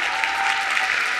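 A dense burst of applause from a crowd, loud and continuous throughout, after a New Year taiko drum performance.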